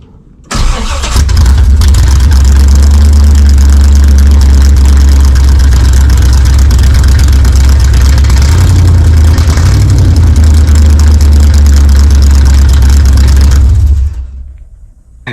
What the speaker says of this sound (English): Let's see how the car sounds with an open header.